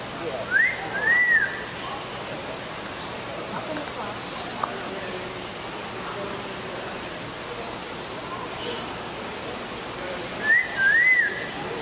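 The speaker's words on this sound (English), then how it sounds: "Oh, nice singing, whistling." An African grey parrot gives two short rising-and-falling whistles, one near the start and one near the end, over a steady background hiss.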